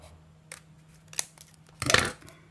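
Scissors trimming paper for a junk journal embellishment: a few crisp single snips, then a longer louder cutting stroke, close and alone without talking.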